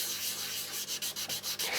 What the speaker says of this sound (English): let's go back and carefully do a little bit more wet sanding